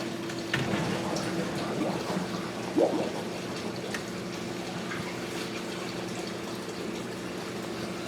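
Water flowing under pressure into a reef tank return pump as it fills and primes, a steady close trickling wash with a low hum and a brief gurgle of escaping air partway through.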